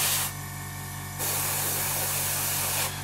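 Bursts of fine, airy spraying from an airbrush applying a wet paint mix along masking tape on a scale model jet, a sharp hiss that starts, cuts off, then resumes for a longer stretch up close.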